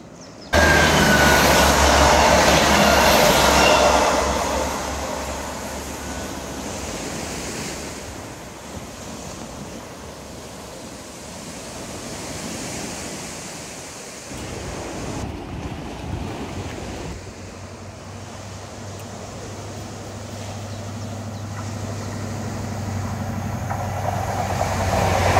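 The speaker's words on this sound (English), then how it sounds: "Flying Scotsman running about 5 minutes late" The Flying Scotsman steam train runs along a seawall railway, a broad, loud rushing roar that fades into a steady rumble with wind and surf, then builds again near the end, heard from close by without speech.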